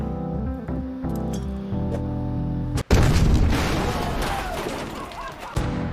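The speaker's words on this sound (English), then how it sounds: "I don't know why I kept throwing grenades." Grenade blasts in an online shooter game, with a sharp loud burst about midway followed by rumbling, crackling explosion noise over layered game sounds and music, plus a few clinks.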